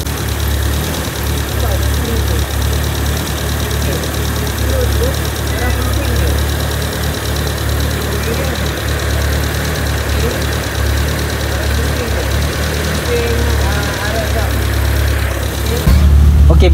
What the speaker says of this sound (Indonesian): bila korang pusing skru tadi, okay, pusing yang belah bawah tu, dia akan, korang akan perasan RPM korang akan naik